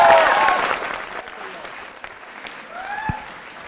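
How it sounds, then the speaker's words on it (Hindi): Loud applause breaks out for a quiz show contestant at a teachers training college, a dense crowd clapping that swells at first and then gradually thins and fades. "मुकेश के लिए जोरदार तालियां बजाइए, जोरदार तालियां।"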